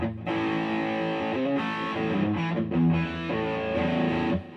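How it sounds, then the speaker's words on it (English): Crunchy overdriven electric guitar through the crunch channel of a Bugera 333XL amp, playing chords and short riffs, loud and sustained with a smooth, saturated distortion and brief pauses between phrases. "Here's the crunch channel, which gives a nice, smooth distortion sound."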